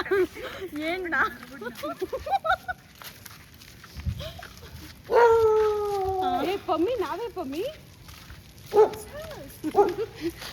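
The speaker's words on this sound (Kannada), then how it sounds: "ನಮ್ಮನ್ನ ನೋಡ್ಬಿಟ್ಟೆ ಬೊಗಳ್ತಾ ಇದೆ" A dog barks and yelps in bursts, some drawn-out and howl-like, while people talk nearby.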